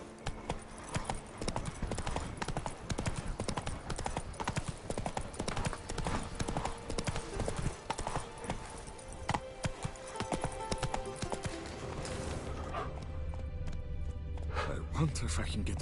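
Horse hooves clip-clop in a steady, rapid gallop in The Witcher 3, loud and continuous for most of the stretch, with game music underneath and a voice heard briefly.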